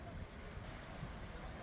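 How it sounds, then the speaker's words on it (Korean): Sea waves wash steadily onto a beach at sunset, a soft, continuous surf rumble heard from a distance with no clear breaks between swells. "황홀한 풍광, 파도 소리, 사람들의 소리."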